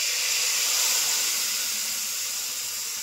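Nigella seeds and ginger hitting hot oil in a pan as a tempering for a bottle gourd dish, a steady bright sizzling hiss, close and even, with no talking.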